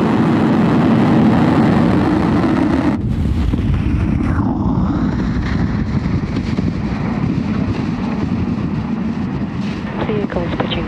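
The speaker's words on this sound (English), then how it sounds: "Ignition, engines full power, and liftoff." A Falcon rocket carrying the Transporter 15 mission and ESA's HydroGNSS satellite lifts off with its engines at full power. The roar is loud, broad and continuous, and a sweeping rush follows partway through as the rocket climbs.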